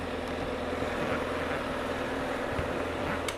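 A sportbike's engine idles on a Maui driveway with a steady low rumble and a faint rhythmic pulse, then a sharp click at the end. No one speaks.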